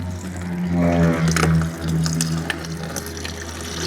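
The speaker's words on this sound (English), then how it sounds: "Oh yeah, that's a lot of coolant. All right, look at this. Coolant in the bucket." Engine coolant pours from a car into a bucket, a steady continuous splashing liquid flow with a low mechanical hum underneath, close and fairly loud throughout with no talking.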